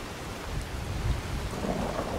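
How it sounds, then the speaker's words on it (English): Steady rain falls in a video game world with a low rumble of thunder rolling beneath it, the downpour constant and close throughout. "It doesn't look like the rain's in any hurry to ease off"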